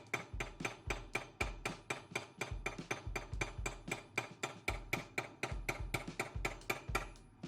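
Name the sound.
hammer blows on copper bowl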